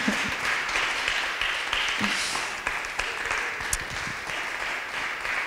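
An audience at an event keeps up a round of applause for Victor, a dense, even wash of clapping at moderate level with a few distinct claps.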